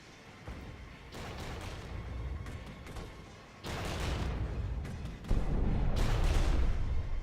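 Tank cannon fire in the Cold War real-time strategy game Regiments, with heavy booming blasts and rumbling bursts that build in loudness over several seconds, the loudest barrages near the end.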